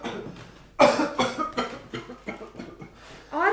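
Several harsh coughs from characters in a Swiss German children's audio drama, coming in a quick series of loud, close bursts with short gaps between them and no other talk.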